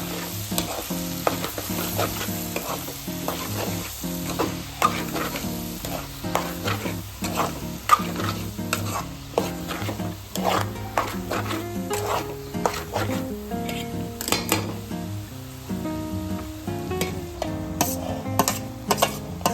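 Potato and cabbage curry frying in a pan as it is stirred, with a steady sizzle under repeated scraping and clinking of the spoon against the pan.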